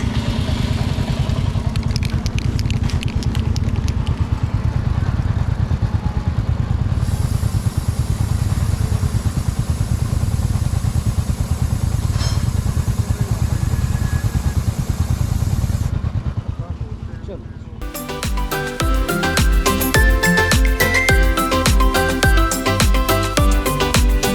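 A motorcycle on a long North East touring ride runs at a steady, loud, close idle with a rapid, even thump, then the sound shifts abruptly near the end.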